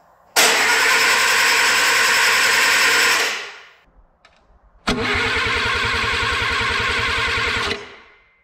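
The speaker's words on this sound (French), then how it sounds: "On va désormais mettre quelques coups de démarreur pour faire monter la pression d'huile sans brancher l'allumage" Freshly assembled engine turned over by the starter motor with the ignition off, two long cranking bursts separated by a short pause, each a loud, steady, rhythmic churning that stops abruptly.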